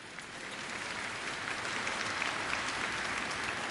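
An audience at a children's Advent play-along concert clapping steadily, a dense even wash of many hands filling the hall without pause.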